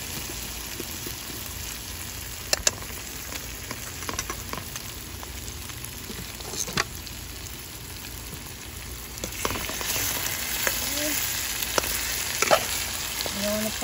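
Armored catfish fry in a pan with curry seasoning, giving a continuous sizzle that grows louder and brighter partway through. Occasional scrapes and knocks of stirring sound over it.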